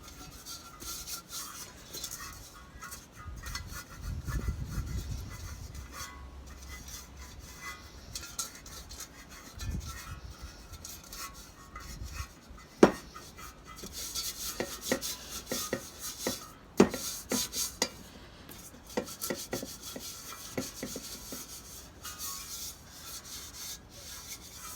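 Finish is rubbed by hand into a wooden display with soft, irregular scrubbing strokes and a few light knocks, quiet and close with no talking.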